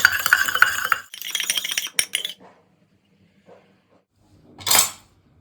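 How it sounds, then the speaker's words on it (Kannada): A mix of coconut oil and castor oil being stirred in a small container, with a few bursts of clinking and scraping close up, then near silence and a last short scrape. "ಹರಳೆಣ್ಣೆ ಎರಡೂ ಕೂಡ ಯೂಸ್ ಮಾಡಿದ್ದೀನಿ ಇದನ್ನು ಚೆನ್ನಾಗಿ ಮಿಕ್ಸ್ ಮಾಡೋಣ"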